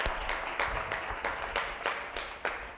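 An audience at a professional association event applauds steadily, with a few strong claps landing in a slow, regular beat over a continuous wash of clapping.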